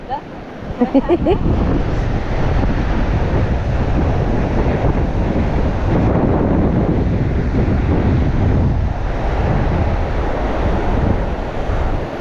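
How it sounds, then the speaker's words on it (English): Strong beach wind after a storm roars and buffets the microphone continuously, a loud broadband rush with surf-like swells underneath, briefly joined by a faint voice near the start. "That wind is screaming."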